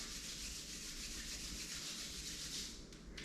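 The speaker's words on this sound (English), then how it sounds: "Rub your palms," Palms rubbing together during a yoga session give a steady, close, dry swishing friction for about three seconds, with no talk over it.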